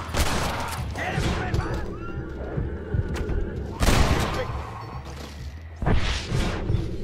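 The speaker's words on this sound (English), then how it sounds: "Oh, I shot his gun. I keep on shooting his gun." Gunfire in the Western video game Red Dead Redemption: several loud, close bursts of shots and thuds come at irregular intervals, with rumbling noise between them.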